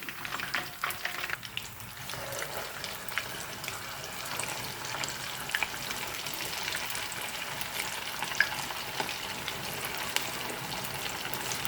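Chicken pieces frying and being stirred in a pan for a spicy Tamil-style chicken fry, a steady close sizzle with occasional scraping and spattering throughout.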